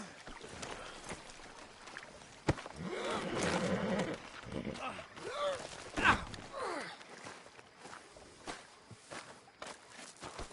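Horse in the video game Red Dead Redemption, hoof clops and snorting with a brief whinny, mixed under game voices and ambient noise at moderate distance.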